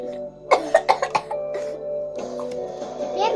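Several people cough after dichlorvos insecticide spray indoors, a burst of four or five sharp close coughs in quick succession, then rougher throat-clearing and hoarse coughing trailing on.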